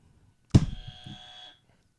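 A single electronic game-show buzzer sounds during a podcast game, a sharp onset followed by a steady buzzing tone lasting about a second before cutting off.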